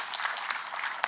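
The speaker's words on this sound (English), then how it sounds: "Can you clap for the CS?" An audience at an outdoor security meeting in Siaya, Kenya claps in a brief, dense burst of applause, heard faint and somewhat distant.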